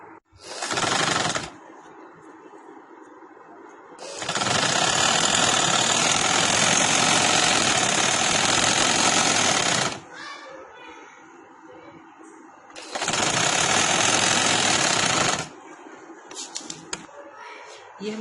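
An electric sewing machine stitching a party-wear dress runs in three bursts, a short one, a long one of about six seconds, and a medium one, with quiet pauses between them.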